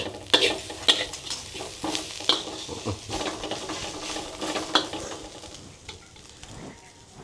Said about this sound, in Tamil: மஞ்சத்தூள் சிறிது போட்டு வதக்கவும் நன்றாக.